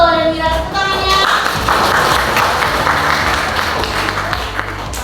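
An audience at a Riau Malay traditional dress demonstration claps steadily. Dense clapping starts after a brief sustained musical tone, then continues at an even, close level for several seconds.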